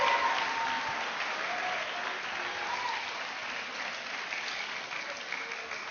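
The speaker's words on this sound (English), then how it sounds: "Let's give General Washington Well, a round of applause." Steady applause from an audience at a school history event, a continuous wash of clapping at moderate distance that holds evenly throughout without a voice over it.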